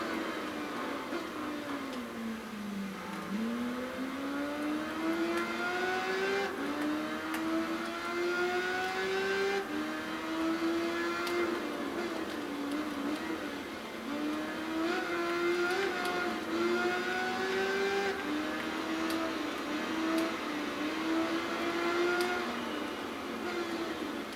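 Engine of an Aprilia motorcycle in the Tourist Trophy racing game, a continuous high whine that climbs through repeated gear changes, dipping and rising again as the bike accelerates, steady and prominent with no talk.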